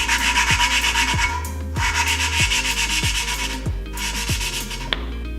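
An engine valve is lapped into its seat with grinding compound, giving a steady gritty rubbing rasp in repeated back-and-forth strokes with brief pauses, close and fairly loud, with no talking.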